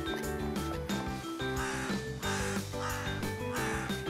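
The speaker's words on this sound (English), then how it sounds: "Oh, what is this? Bird!" Crows caw repeatedly over loud, steady background music, the harsh calls recurring in several bursts throughout.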